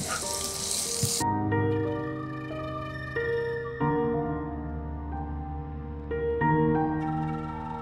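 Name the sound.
onion, garlic and green chili frying in hot oil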